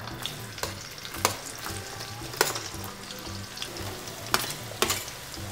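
Chopped small onions hit hot oil in a pan and sizzle steadily, with sharp spoon or spatula clacks against the pan at intervals, close and clear with no talking.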